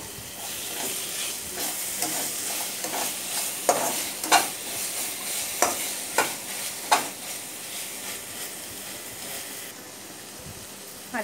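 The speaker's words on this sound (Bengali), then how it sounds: "কালো জিরা দিয়ে দিয়েছি, ভালো করে ভেজে নেব।" Black cumin, onion and garlic fry in a pan with a steady, close sizzle while a spoon stirs and scrapes in uneven strokes, with no voices.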